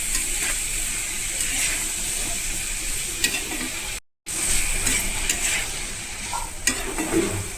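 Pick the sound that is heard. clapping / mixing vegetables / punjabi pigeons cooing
mixing vegetables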